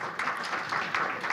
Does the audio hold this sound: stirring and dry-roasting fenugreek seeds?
no